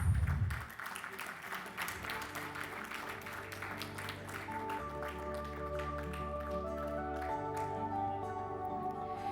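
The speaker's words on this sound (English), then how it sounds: "Can we have a round of applause?" Audience claps for guests of honor receiving plaques at a business conclave's inaugural session, a moderate scattered patter of hands under a sustained low musical drone that carries on throughout.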